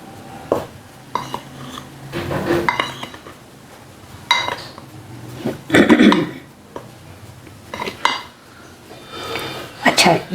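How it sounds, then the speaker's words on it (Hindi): Spices stirred into a chicken coating of red chili powder, salt and black pepper in a bowl, with repeated clinks and scrapes of a spoon against the dish coming in uneven bursts, sometimes under talk. "और फिर हमने इसको अच्छा सा मिक्स करना है।"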